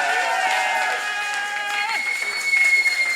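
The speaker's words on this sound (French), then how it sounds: "nous poussons le cri de joie en acclamant le Seigneur" A church congregation shouts for joy and cheers in acclaim of the Lord, a dense wash of many voices, applause and cries swelling together, loud and sustained throughout, rising slightly near the end.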